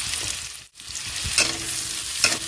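Two onions and four green chillies frying in oil with turmeric, a loud close sizzle with a brief dip and several stirring scrapes.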